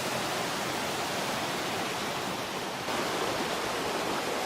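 A creek beside a mountain cabin with waterfall frontage rushes continuously in a dense, broadband hiss, loud and close, with a slight rise in intensity partway through and no voices.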